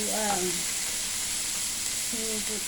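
Vegetables for beef fried rice noodles sizzle in a hot pan with a steady, bright hiss, and a voice speaks briefly at the start and again near the end.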